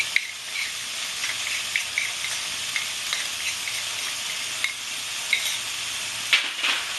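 Ginger paste, garlic paste, chopped chillies and chilli powder sizzle steadily in hot oil in a pan, a continuous bright frying hiss with small pops and crackles throughout, close and without talk.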